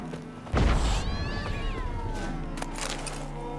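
Cats meow loudly and close in The Witcher 3: Wild Hunt Remastered, one drawn-out wavering cry after a sharp thump, over steady game background noise.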